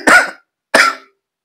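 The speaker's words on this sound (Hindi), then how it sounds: "खांसी बहुत आ रही, क्या करें," Two sharp, dry coughs from a person with a cold, close to the mic, separated by a short pause and followed by silence.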